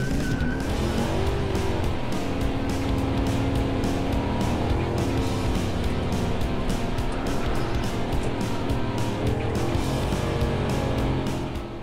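Pickup trucks, a Ford F150 EcoBoost and a Dodge Ram SRT-10, do a burnout with a loud engine roaring steadily and tires squealing continuously and close by for the whole stretch.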